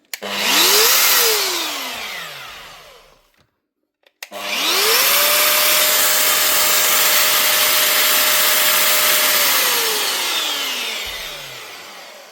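A repaired Metabo MFE 40 wall chaser, a 1900-watt machine, test-run without its blades: the motor whines up to a steady high pitch and winds down, stops briefly, then runs again longer before spinning down, loud and close.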